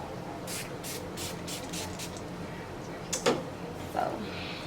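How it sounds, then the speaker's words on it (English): Several short, soft hissing bursts of a spray bottle onto curly hair in quick succession, followed by a couple of louder spritzes, close up in a quiet room. "this is my spray bottle, y'all"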